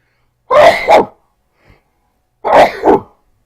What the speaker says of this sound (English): I apologize for sneezing into a microphone